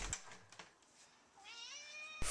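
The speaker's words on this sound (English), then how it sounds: "I've been meowing for ages." A domestic cat meows once, a drawn-out rising and falling call heard close and fairly quiet, following a few soft indoor clicks and rustles.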